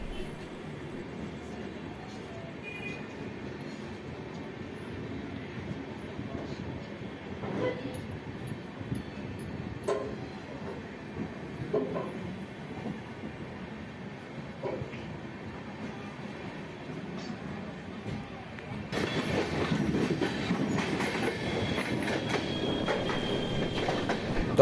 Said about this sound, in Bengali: দমদম জংশন পার করছে আমাদের এই ট্রেন।